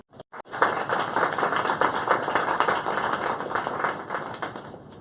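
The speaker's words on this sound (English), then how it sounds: "So just round of applause for our speakers" Conference audience applauding the speakers after a data science in marketing panel, many hands clapping in a dense burst that starts abruptly after a couple of sharp claps and gradually thins out.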